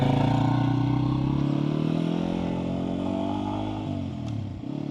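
A Yamaha XT250 motorcycle riding off-road over sand and gravel, its single-cylinder engine droning steadily nearby, easing off and dipping in pitch toward the end.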